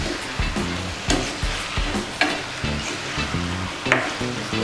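Butter chicken being stirred with Schezwan sauce in a pan, a spoon scraping in short repeated strokes over a steady close sizzle, with no talking.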